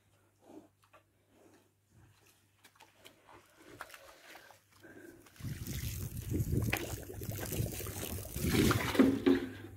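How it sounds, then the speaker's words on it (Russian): Water poured out of a container in a hot pig pen, starting faintly and then swelling into a steady, rushing splash that lasts several seconds, close by, with scattered quiet noises before it. "Вот так вот мы воду выливаем."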